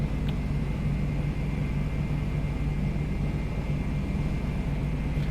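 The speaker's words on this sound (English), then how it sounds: "India Lima Tango is a Beechcraft Bonanza. We're taxiing out from the GA apron up to the fuel bowser." A Beechcraft Bonanza light aircraft taxiing out from a general aviation apron: a steady, continuous engine drone and rumble with a low hum that stays even throughout, no voices.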